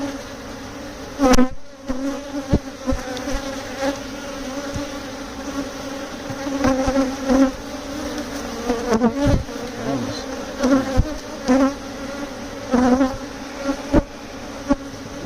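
A swarm of honeybees being transferred into a Layens hive drones continuously, a dense buzzing hum up close with fluctuating intensity and occasional sharper buzzes flying past.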